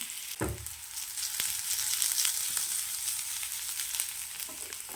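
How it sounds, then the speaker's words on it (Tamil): Onion sautés in a little oil for a bean gravy, a continuous soft sizzle with faint stirring clicks, close but moderately quiet, no voices. "கொஞ்சமாக எண்ணெய் சேர்த்துக்கலாம் வெங்காயம் நல்லா வதங்கட்டும்"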